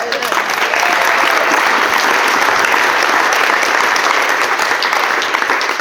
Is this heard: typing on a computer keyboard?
no